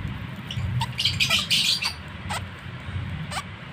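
A hand-fed pet parrot gives repeated harsh squawks and short chirps at close range, the calls arriving in bursts over a low background rumble.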